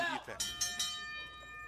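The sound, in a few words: wrestling match bell ringing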